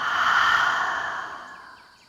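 A long, steady breath pushed out through the mouth during a calming yoga practice, an airy close-up exhale that starts full and fades gradually over about two seconds, with no talking.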